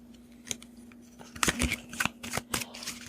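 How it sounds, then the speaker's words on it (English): Tarot cards shuffled by hand, a run of crisp riffling and slapping bursts that grow louder toward the middle and continue in quick, uneven strokes, close and clear with no talking. "So I'm going to shuffle, and while I'm shuffling, I'm going to say the incantation."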